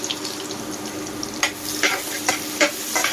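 Sliced onion, bay leaf, cardamom and cinnamon frying in soybean oil, a steady close sizzle with a few sharp spatters and stirring clicks throughout.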